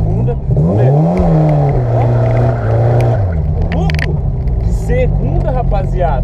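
A drift car revs and accelerates in second gear, its engine tone rising and falling in loud, close pulls while someone talks over it.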